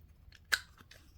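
Scissors make a single crisp snip while trimming paper ephemera for a journal, close and quiet, with a few faint rustles around it.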